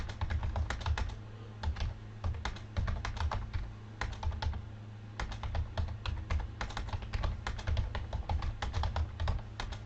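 Rapid, continuous typing on a computer keyboard to enter a chat message, close and busy with only brief pauses, over a low steady hum and no talking.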